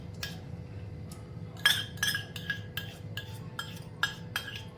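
Metal spoons clink against a kadhai over low heat as spoonfuls of ghee go in, a series of sharp, fairly close taps and scrapes spaced irregularly over a quiet background.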